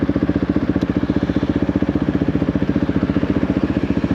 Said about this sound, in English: I will say I do like the deeper sound of this